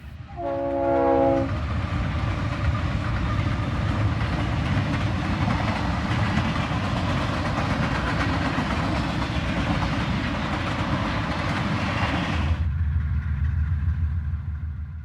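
A train horn blasts briefly, then a loud, steady roar and rumble of a heavy container and piggyback freight train pulling out of a siding near Akron, Colorado, close by, cutting off to a low idle near the end.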